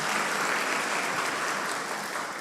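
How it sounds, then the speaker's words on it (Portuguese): A church congregation applauds, a continuous wash of many hands clapping at moderate distance, steady and fairly faint throughout. "Pode aplaudir Deus por esse texto?"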